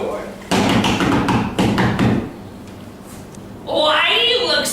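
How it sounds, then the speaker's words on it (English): Several loud knocks on a door, quick raps in a short rhythmic burst, are followed by someone speaking. "a troll came and knocked on Fanny's door"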